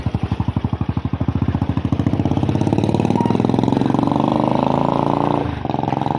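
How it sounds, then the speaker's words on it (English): Several motorcycle engines idle and rev nearby in a steady, loud, throbbing chug, with one engine's pulse dropping out near the end. "Kuna pikipiki mingi hapa."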